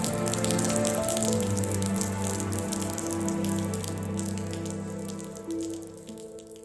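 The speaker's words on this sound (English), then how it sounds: "Right now it's solemn because it just started raining and everybody is trying to stay dry." Rain that has just started falls steadily over an outdoor commencement gathering, a close, even patter with a low background hum that thins out slightly toward the end.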